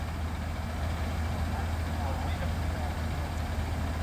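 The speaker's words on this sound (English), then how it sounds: "Los Angeles County Fire Truck, so LAFD is here." A Los Angeles County fire truck idles nearby, a steady low diesel rumble that holds evenly throughout with broadband street noise layered over it.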